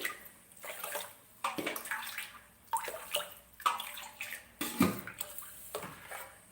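Rice being washed by hand in water inside a pot, steady splashing and swishing in repeated strokes with brief pauses, close and fairly loud, no speech.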